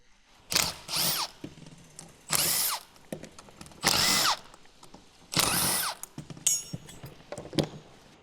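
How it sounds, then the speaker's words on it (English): A power tool with a 10mm socket drives out the bolts holding the turbo compressor housing to the core on a 2013-2020 Ford Fusion. It comes in four short, whirring bursts with quieter clicks and handling noises between them. "use a 10mm socket to remove the bolts connecting the compressor housing and core"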